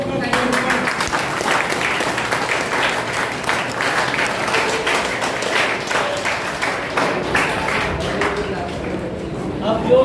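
Attendees at the close of a chess tournament in Satna stand and give a loud, sustained round of applause that carries steadily for the full ten seconds, with voices mixed in.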